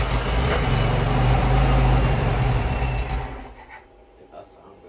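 A freshly rebuilt VW Beetle engine on its first start runs with a steady droning idle, then fades away near the end while people talk.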